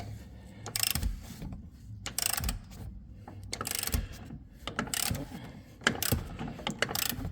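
A hand ratchet clicks in quick bursts while tightening upper control arm bolts on a 2000 Dodge Durango 5.9L V8, sharp close pawl rattles repeating in several strokes with short pauses between.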